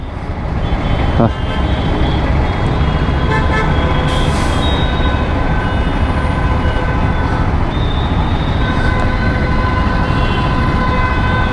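Dense Bangalore road traffic rumbles steadily at close range while vehicle horns toot repeatedly, some short and some held, over a constant loud engine roar.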